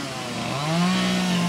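A Stihl chainsaw runs steadily at a chainsaw carving championship, its engine droning at a constant pitch that rises slightly partway through, fairly close and continuous, with crowd noise underneath.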